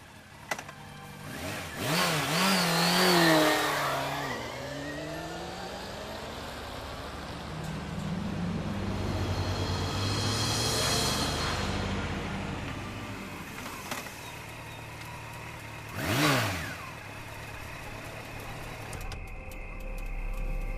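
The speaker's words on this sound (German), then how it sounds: "Mein Motorrad." A motorcycle in the video game Secret Files: Tunguska, its engine revving up in rising sweeps, then a long steady idle drone and another sharp rev near the end, with no talk.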